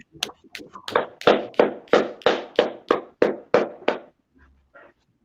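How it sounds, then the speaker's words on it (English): A group claps nine steady, evenly spaced claps in unison at a religious class in Harlem, New York, each clap sharp and close, before the room falls quiet. "Just clap it up."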